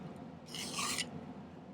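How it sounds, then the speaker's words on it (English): A metal file is drawn across silver, filing a slight bevel into the top edge: a single short rasping stroke of about half a second over quiet room noise. "I'm actually going to file kind of a little slight bevel outwards on the top of this"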